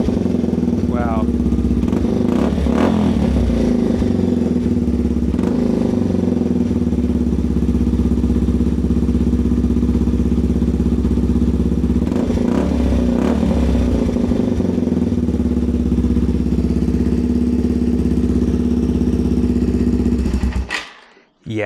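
A Yamaha TW200 with a Bradley performance exhaust, quiet insert out, runs loud and close, its idle broken by several sharp revving blips before the engine cuts off abruptly at the end.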